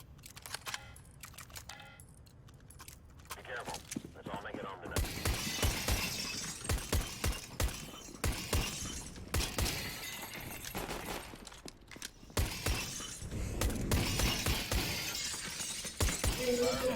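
Glass windows shatter repeatedly in CS:GO, with crashing breaks and tinkling shards piling up after a quiet opening, loud and near, interspersed with gunfire-like cracks and brief talk.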